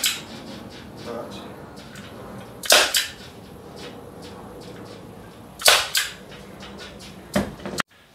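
A staple gun drives long steel staples into a boat cushion with three sharp, loud snaps spread a few seconds apart, separated by quieter rustling and handling sounds.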